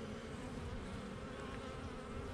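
Honey bees in a hive from a newly caught swarm, drawing out comb, make a dense, steady buzzing hum up close, quiet overall and with no talk.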